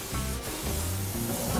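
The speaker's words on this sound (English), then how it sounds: "I'm trying to keep all my spray going into the cook chamber" Cooking oil sprayed from a can inside the cook chamber of a Char-Griller Grand Champ offset smoker during seasoning, a continuous close hiss with a low hollow resonance from the metal chamber.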